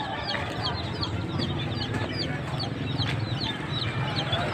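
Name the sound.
chickens clucking at a poultry market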